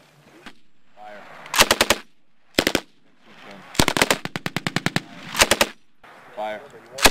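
Machine guns fired by 173rd Airborne Brigade soldiers on a range in Slovenia: several loud, rapid bursts of shots separated by short pauses, with voices calling out between the strings of fire.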